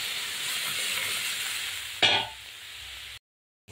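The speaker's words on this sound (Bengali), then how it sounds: "এবার আমি কিন্তু মুগের ডালটা সাঁতলে দিই।" Moong dal sauteing in oil over a cumin and bay leaf tempering, a moderate hiss with a sudden louder burst of sizzle midway, then cutting to silence.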